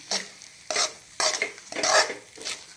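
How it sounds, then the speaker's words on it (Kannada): Beetroot ragi halwa with jaggery being stirred in a pan, five separate scraping, sticky strokes in a loose rhythm, close up and moderately quiet, with no voices. "ಇದನ್ನು ಹಾಕಿ ಈಗ ಕಲಕ್ತಾ ಹೋಗಬೇಕು"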